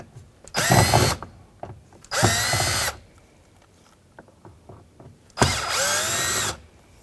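Power drill backing screws out of an Acura MDX door panel, heard as three loud whirring bursts of about a second each, with quiet gaps of faint handling clicks between them.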